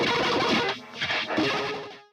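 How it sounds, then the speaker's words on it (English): An electric guitar strummed very fast through a fuzz pedal, heavy distortion producing a harsh, buzzing roar in two or three surging bursts, with a brief dip between them before fading out. "strumming super fast with tons of distortion coming from his fuzz"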